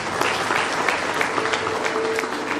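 An audience at a school event for young students claps in a lively, continuous burst, the crowd's applause close and fairly loud with a few scattered sharper claps on top.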